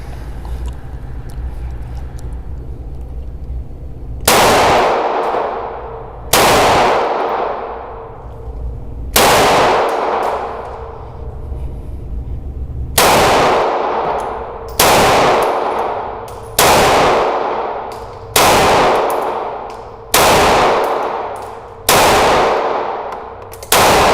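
A CZ P10C pistol fires about ten single shots at irregular intervals, each a sharp, loud crack close by with a ringing echo that fades before the next one.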